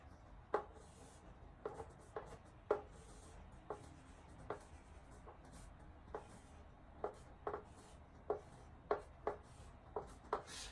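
A calligraphy brush writing Korean characters on paper makes soft, sparse strokes, with about a dozen brief taps and swishes spread irregularly over a quiet background. No one speaks.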